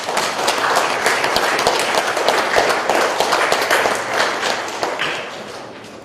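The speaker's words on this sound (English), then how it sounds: "Could you please give them a round of applause?" An audience at a college computer studies fair applauding, dense sustained clapping from many people that fades slightly toward the end.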